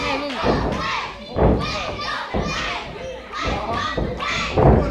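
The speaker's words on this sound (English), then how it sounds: "Listen to this crowd." A crowd at an amateur wrestling event cheers and shouts in loud, uneven surges, with excited voices, children among them, rising and falling close by.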